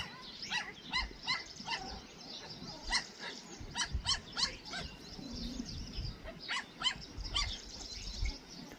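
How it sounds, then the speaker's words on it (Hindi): Several puppies yap and bark back and forth in high, overlapping bursts, close by, with short pauses between volleys. "वो आपस में भौंक रहे हैं।"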